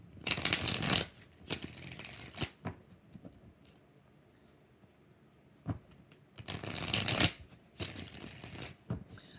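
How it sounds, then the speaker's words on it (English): Tarot cards being shuffled in two loud bursts of rapid riffling, separated by a quieter stretch of small taps and handling noises. "3 more shuffles."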